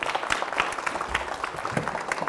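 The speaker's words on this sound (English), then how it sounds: "A small round of applause." Light, scattered clapping from a small group at a medical physics teaching session, fairly quiet and brief, with no one speaking.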